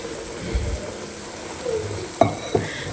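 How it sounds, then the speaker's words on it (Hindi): Onion masala with red chilli and turmeric sizzles and frys in a pan while being stirred, with a couple of sharper clanks of the spoon against the pan near the end. "और अब हम डालेंगे जो हमने टमाटो बॉईल किए थे उसका पेस्ट"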